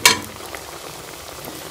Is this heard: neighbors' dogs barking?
no